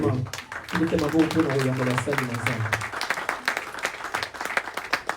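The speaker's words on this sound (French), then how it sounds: "Est-ce qu'on peut acclamer la présence de Jésus?" A church congregation applauds, a dense, steady patter of many hands close by that thins out toward the end, with a voice talking over the start.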